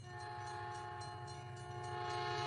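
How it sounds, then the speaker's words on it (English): A train rumbles steadily with sustained horn-like tones and faint rhythmic clicking, heard on its own at moderate distance. "Train."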